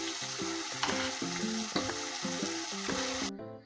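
Khichdi with cauliflower, potato and carrot tipped into hot oil in a pan for Kathiyawadi-style Girnari khichdi, sizzling steadily while a spoon scrapes and clatters in uneven bursts, close and fairly loud, with no talking.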